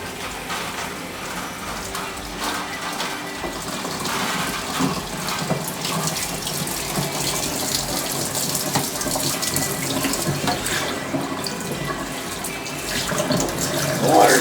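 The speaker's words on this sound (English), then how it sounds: "now I'm just going to slowly put the cold water on, just so it'll pressurize." Cold water flowing steadily through soft hoses of a wort chiller while brewing an Arrogant Bastard Ale clone, a continuous broadband rush with faint gurgles, growing slightly louder toward the end.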